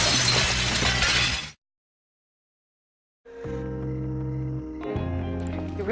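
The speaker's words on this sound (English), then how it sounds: "you made us jump through a glass window" Glass window shattering as people jump through it, a loud dense crash of breaking glass lasting over a second, then a silent gap before music-like tonal sound takes over.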